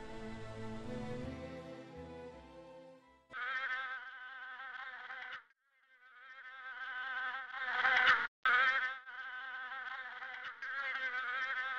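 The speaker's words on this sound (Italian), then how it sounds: "Si udiva il ronzare degli insetti che pareva il mormorio d'un discorso lontano." Insects buzz in a hot, silent garden, a close, droning whine with shifting pitch that comes in long passes and breaks off briefly before returning, with no voices.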